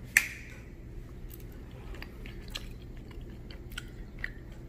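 Someone eating grilled mahi-mahi, with a sharp bite at the start followed by soft, close, quiet chewing and small mouth clicks.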